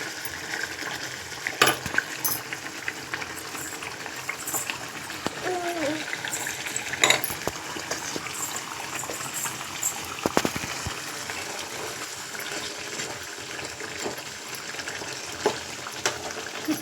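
Ridge gourd and tomato curry cooking in a pot, steady faint sizzling and bubbling with scattered stirring clinks and scrapes throughout, close, a voice briefly heard.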